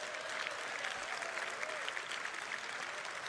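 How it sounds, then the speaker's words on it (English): Sparse, hesitant applause from a convention audience at a Star Citizen event, a steady wash of clapping throughout with no voices over it. "You can hear that the people are a bit hesitant on applauding."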